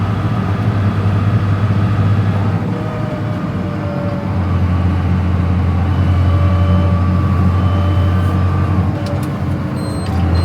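A JCB Fastrac tractor with an 85 engine, already puffing black smoke, revs hard under load in a loud, steady low droning roar that holds its pitch throughout, close and unbroken, with no talking.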